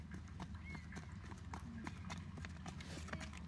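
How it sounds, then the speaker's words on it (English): Shod horse hooves clip-clop in a steady, sharp rhythm on a hard surface, moderately close, over a low rumbling background with faint voices. "A horse with shoes."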